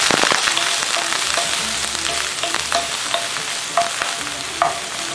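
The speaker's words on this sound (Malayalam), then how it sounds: "ഇതിപ്പോൾ ഞാൻ കുറച്ച് ബട്ടറാണ് പാനിൽ ഒഴിച്ചു കൊടുത്തേക്കുന്നത് അതിലേക്ക് പനീർ ഇട്ടൊന്ന് നന്നായിട്ടൊന്ന് വറുത്തെടുക്കണം" Paneer fries in butter in a pan with a steady, close sizzle, broken by light scrapes and taps of a utensil stirring. No one speaks.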